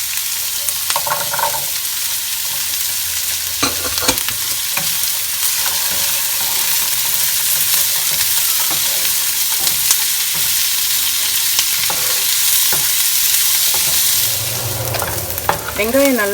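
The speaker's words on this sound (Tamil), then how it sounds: "பூண்டும் வெங்காயமும் சேர்ந்து நல்லா வதங்கியிருக்கு." Onion and garlic sauté in sesame oil for a South Indian tomato gravy, a steady close sizzle broken by the scrape and clink of stirring at irregular moments.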